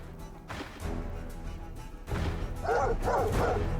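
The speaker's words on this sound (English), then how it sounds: "Yeah, bark, bark, bark." A dog in the Stoneshard role-playing game gives two or three sharp, close barks near the end, over a low, steady game ambience.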